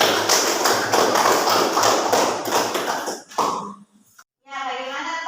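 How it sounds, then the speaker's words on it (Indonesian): A classroom group applauds the best-scoring group, with dense clapping from many hands for about three seconds before it thins out, followed by a short pause and a voice. "Beri dulu aplaus untuk kelompok 2."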